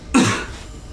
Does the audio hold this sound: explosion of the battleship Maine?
no